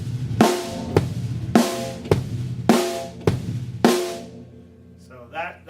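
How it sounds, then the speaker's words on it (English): Basic drum groove with the hi-hat left out, a right-foot kick drum trading with the snare drum in a slow, steady alternation of six loud, close hits that ring out, then fade into quiet. "all you're really doing is you're just alternating between hitting your kick, which is with your right foot, and then hitting the snare drum."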